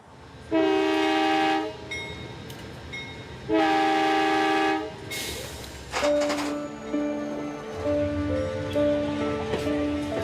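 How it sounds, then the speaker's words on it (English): A passing night train sounds its horn in two long, loud blasts, followed by rumbling rail noise and a lower, wavering horn tone as it continues by. "I'm catching the night train to Chicago"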